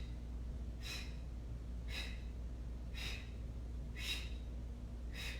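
Five sharp, forceful exhales through the mouth during yoga ab pulses, evenly spaced about a second apart, close and clear over a steady low background hum.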